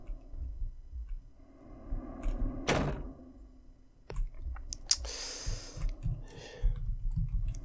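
Rattling and clicking of a locked door handle in the horror game Ao Oni, a sharp loud jolt followed by several quicker clattering bursts, heard alone without talk.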